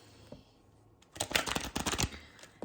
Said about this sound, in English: I like to shuffle like this